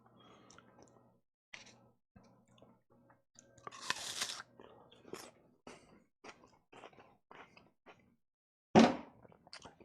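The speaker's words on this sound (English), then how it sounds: "As I continue to chew." Someone chews and crunches an apple close to the mic, with a series of irregular crisp bites and chomps and a loud crunch near the end.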